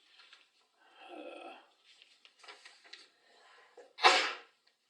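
A single sharp, loud sneeze bursts out near the end of a budget meeting, preceded by soft breathy sounds and quiet shuffling in a quiet room.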